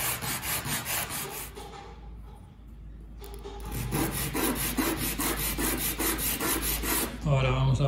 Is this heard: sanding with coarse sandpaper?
yes